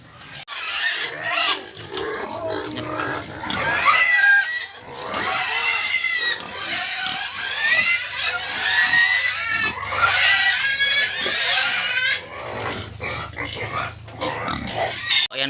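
Duroc and native piglets squealing and grunting loudly and almost nonstop at close range on a provincial farm, shrill cries overlapping in dense bursts.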